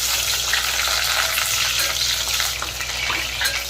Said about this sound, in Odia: ପିଆଜ ଭାଜିଦେବା